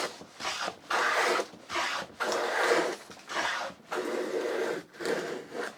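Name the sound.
hand plane taking a full length shaving on shooting board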